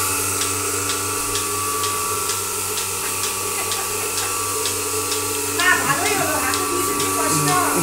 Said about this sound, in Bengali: এটি হলো তুরস্কের দুধ দোহানো মেশিন।